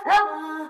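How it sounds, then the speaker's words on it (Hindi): A dog gives a single short, close bark that trails into a brief whine, heard alone without talk. "ये डॉग तुम्हें देख के भौंक क्यों रहा है?"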